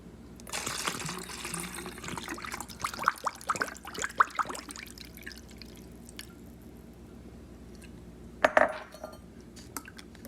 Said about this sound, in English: I'm going to fill the rest of the way with water.